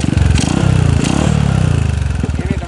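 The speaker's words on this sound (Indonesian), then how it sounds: "Ini adalah suara dari motor Suzuki Thunder 250 yang udah di custom" A custom jet-style Suzuki Thunder 250 motorcycle with a stainless exhaust idles close by with a deep, bassy, mellow burble, its steady rapid pulsing rising briefly with a couple of light throttle blips.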